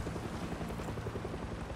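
In the video game Far Cry 6, an aircraft drones overhead as a steady, rumbling engine hum with a low pulsing beat. The sound is fairly faint and stays even throughout.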